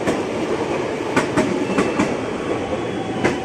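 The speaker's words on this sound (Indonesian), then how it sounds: "Komuter lain tujuan Bogor, lagi-lagi rangkaiannya 8 kereta." A KRL commuter train of eight cars runs through Cawang station during the busy evening rush, its wheels sounding a steady rumble with sharp rhythmic clacks over the rail joints as it passes close by.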